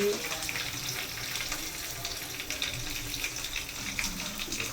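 Cumin, curry leaves and dried red chillies crackle and sizzle steadily in hot oil for tempering, a continuous bright hiss with small pops, fairly close and without speech.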